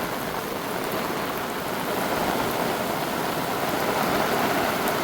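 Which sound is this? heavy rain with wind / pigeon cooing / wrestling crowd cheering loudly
heavy rain with wind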